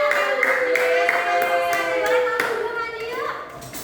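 Rhythmic hand clapping in a classroom, a few sharp claps in a patterned beat mixed with children's voices chanting along, close and moderately loud, fading at the end.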